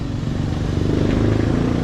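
A motorcycle named Mura runs close by with a steady, loud engine rumble and slight rev fluctuation over a brief stretch.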